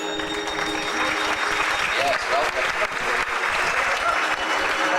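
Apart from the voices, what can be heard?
audience applause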